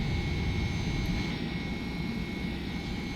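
Loud, steady jet engine roar from a FlightFactor 767-300 climbing after takeoff in X-Plane 11, a continuous broadband rumble with a faint high whine, unchanging throughout with no talk.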